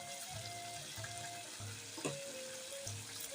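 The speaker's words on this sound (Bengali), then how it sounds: "পনিরটা দিয়ে একটু হালকা করে নেড়ে চেড়ে নিয়েছি" Paneer stirred into a pan of pointed gourd curry, light stirring scrapes over a continuous soft sizzle, with faint clinks and a brief louder knock midway, no talking.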